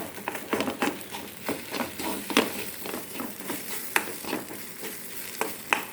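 Egg thoran with grated coconut being stirred in a pan, a spoon scraping and turning the mix in irregular strokes over a soft, steady sizzle of frying; no talking.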